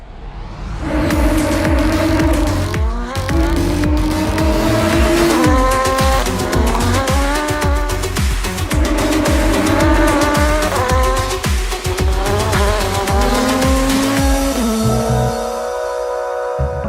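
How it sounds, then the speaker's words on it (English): Audi RS5 DTM race cars from the 2020 season, loud and close, with high-revving engines dropping pitch through repeated downshifts, interrupted by sharp gear changes over about sixteen seconds before fading. "with our Audi RS5, this noise downshifting is something very special, I would say, and even on the straight the cars are very loud"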